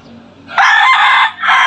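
A rooster crows loudly and close by, one long strained call followed after a brief pause by the start of a second crow.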